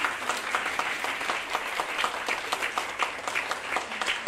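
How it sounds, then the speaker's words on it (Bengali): Loud, sustained audience applause for participants at an Aagomoni performing-arts event, dense overlapping claps filling the whole stretch without letup. "ওদের জন্য একটা জোরে হাততালি হয়ে যায়"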